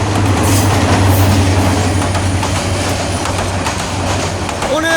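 A passenger commuter train rumbles past close by, a loud steady roar with rail clatter and a brief wheel squeal at the end.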